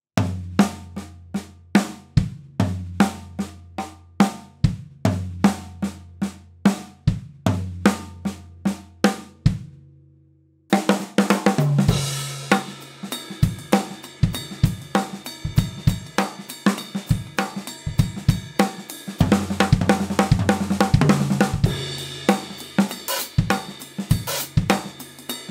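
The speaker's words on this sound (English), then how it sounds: "So let's play it four times as 16 note triplets and accent all the singles." Drum kit fill of linear sticking licks played as 16th-note triplets with accented singles, first slow and sparse, then at tempo over a groove with cymbals, dense rapid strokes with steady accents throughout.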